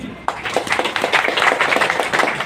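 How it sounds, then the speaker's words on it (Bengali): An audience at a Bengali lecture on the CAA claps their hands, a steady burst of applause from many people that starts suddenly and continues for a couple of seconds. "একটা হাততালি দিন।"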